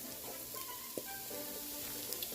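Egg and broccoli raab with other vegetables sizzling in a pan, a steady close frying hiss with a few light clinks and stirring sounds, and no talk.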